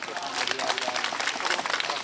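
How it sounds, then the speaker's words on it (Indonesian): An audience at an Indonesian public gathering claps warmly for the district head, a brief, steady burst of crowd applause with a voice talking over it. "tepuk tangan untuk Bapak Bupati"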